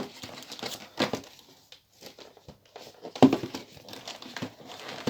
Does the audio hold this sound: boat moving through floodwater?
no